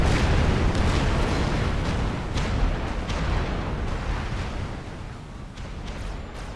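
Artillery barrages and explosions from a Supreme Commander: Forged Alliance battle make a dense, continuous rumble, with repeated booms and bursts layered close together at steady loudness.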